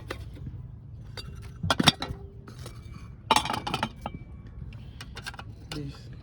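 Metal pots, a tea kettle and utensils clink and clatter in the cramped kitchen of a camper van, with scattered sharp knocks and jangles, fairly faint, between stretches of quiet handling.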